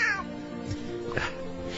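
A cat meows once or twice, faint and muffled under a steady background hum.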